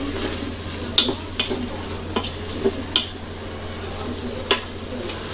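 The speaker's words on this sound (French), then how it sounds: "Et je vais ajouter du coup mon vin blanc." White wine hits a hot pan during a calamari Basquaise dish, giving a steady close sizzle throughout, broken by several sharp clicks and scrapes of a utensil being stirred against the pan.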